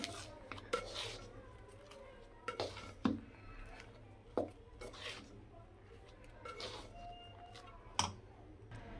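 A spatula stirs vegetable fried rice in a pan, producing scattered sharp taps and scrapes against the metal amid quiet background talk.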